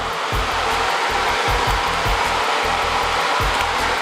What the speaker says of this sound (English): Just kind of letting the diffuser sit at the curls and dry them, not blowing it around.